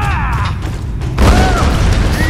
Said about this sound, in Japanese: これでガスを爆発させる。